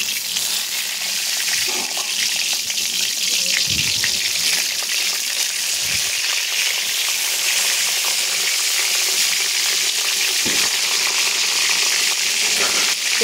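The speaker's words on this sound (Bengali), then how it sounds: "এবারে সমস্ত বেগুন এখানে দিয়ে সুন্দর করে ভেজে নেব" Eggplant pieces for begun posto fry in hot oil, a steady broadband sizzle running throughout with a few soft clunks and stirring knocks, close and fairly loud, no talking.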